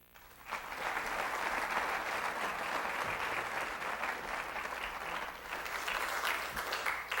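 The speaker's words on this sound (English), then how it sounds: "Let's give them another round of applause" Sustained audience applause for junior pageant contestants at a Distinguished Young Women scholarship event, a dense steady wash of many hands clapping that swells in quickly and holds loud for several seconds.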